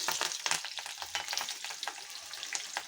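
Curry leaves and green chillies crackling in a mustard seed tempering for ivy gourd curry, a quiet, close, busy sizzle with rapid pops and spits, no voices.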